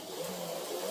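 An Autoworld Datsun 510 HO slot car on stock tires runs along a track, giving a steady whirring motor whine with tire hum, continuous and close for about a second.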